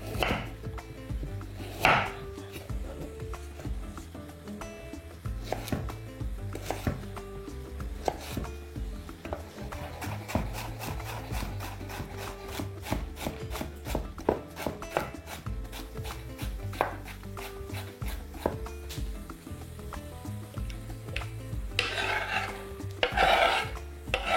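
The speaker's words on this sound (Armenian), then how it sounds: "Կտրատում ենք մանր խորան արդիկների և տապակում ենք։" Carrots diced into small cubes for pilaf on a wooden board: a long, steady run of rapid knife chops, close and crisp, with continuous kitchen rasping underneath and no voices.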